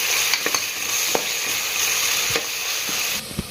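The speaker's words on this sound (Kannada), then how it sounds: "ಈಗ ಇದರೊಳಗೆ ಒಂದೂವರೆ ಚಮಚದಷ್ಟು ಹಸೆ ಶುಂಠಿ ಬೆಳ್ಳುಳ್ಳಿ ಪೇಸ್ಟ್ ಹಾಕೊಳ್ಳೋಣ್ರಿ" Ginger garlic paste frying in hot oil for egg biryani gives a steady, close sizzle across the whole stretch, broken by a few soft stirring knocks and scrapes; no one speaks.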